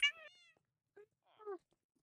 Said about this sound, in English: Oh, that's the other cat.